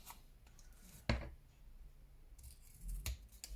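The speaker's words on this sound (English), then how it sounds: "Okay, trim off that corner because it's rounded, pull off that extra bit there." Scissors snip a rounded corner off a handmade postcard card: one sharp, close cut followed by a second short snip a couple of seconds later, in a quiet room.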